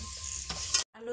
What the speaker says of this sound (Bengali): চিপসগুলো ভেজে নিচ্ছি।